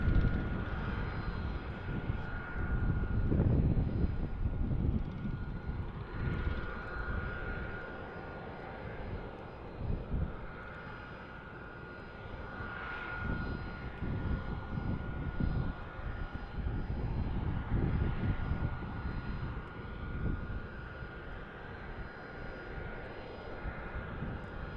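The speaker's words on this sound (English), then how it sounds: "I can hear the engines, and once I hear the engines, then I know they're ready to roll." Airplane engines at Tucson International Airport hum and drone steadily at moderate distance, swelling and easing over time with a faint tonal whine, no voices present.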